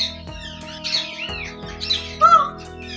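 A large male peacock from a breeding stock calls nearby with harsh, squawking cries rising over a steady hum, loudest in a final burst.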